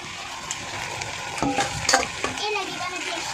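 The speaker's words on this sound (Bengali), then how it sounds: "আর এখানে মাংস কষা হচ্ছে" Chicken coated with chili and turmeric is stir-fried in a pan, scraping spatula strokes and a low sizzle sounding close by in a few irregular bursts.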